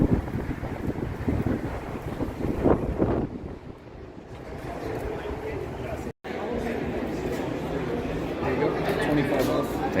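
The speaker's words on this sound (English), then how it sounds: "Pretty windy." Gusty wind buffeting the microphone outdoors near a parking area in San Francisco, a steady rumbling roar that dips briefly midway, with a person speaking over it.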